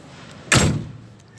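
Rear door of a 1995 Mitsubishi L300 van swung shut in a single solid slam with a brief metallic rattle that quickly dies away, close and loud with no voices.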